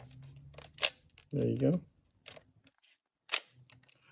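A camera with a built-in lens and shutter cover being worked by hand, giving a few sharp mechanical clicks and snaps spread across the moment, close and fairly loud, with a brief spoken remark in between.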